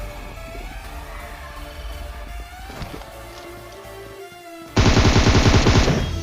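Gunfire in a PUBG Mobile gunfight: a dense burst of rapid automatic shots breaks in near the end, loud and close, over a steady game background.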